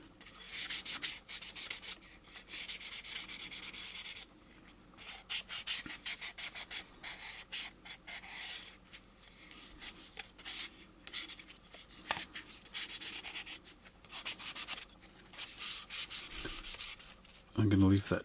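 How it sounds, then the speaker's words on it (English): Plastic intercooler bottom parts from an AMT U.S.S. Enterprise model kit being lightly sanded by hand, with close, steady rubbing strokes that come in bursts and short pauses. "Remember, I'm just lightly sanding this."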